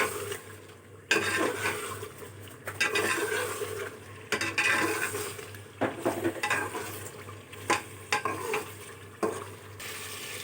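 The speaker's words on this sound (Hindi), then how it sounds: "चिकन को 2 से 3 मिनट तक फ्राई कर लेंगे मसाले में अच्छी तरह।" Chicken leg pieces frying in masala in a pot, stirred vigorously: a continuous sizzle with repeated scraping and clanking of a spoon against the pan, close and uneven, no talk.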